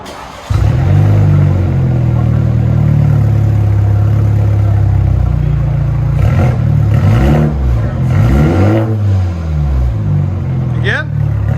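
A 2021 Toyota Supra GR with a straight-piped dual exhaust idles with a deep, loud drone, then revs up several times in surges, with voices talking over the engine.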